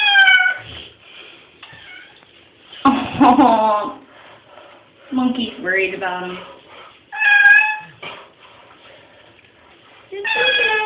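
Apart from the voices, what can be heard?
cat meowing during bath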